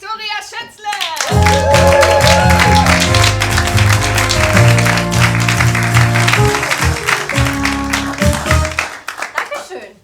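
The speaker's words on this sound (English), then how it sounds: "give a huge applause for our next Turbinista, Victoria Schätzle" An audience applauds a speaker at a grand opening event, with a loud, steady wash of clapping that swells and then tapers off, while music or voices run underneath.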